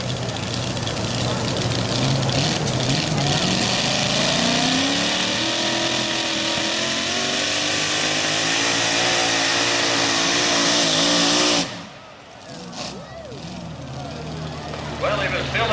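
A pulling truck's engine roars at full throttle in a truck and tractor pulling competition, loud and sustained for nearly twelve seconds, then cuts off abruptly, leaving quieter crowd and arena sound.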